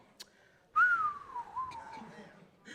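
A single long descending whistle from a rap song, the falling bomb-drop tone gliding downward for about a second, faint and preceded by a brief click.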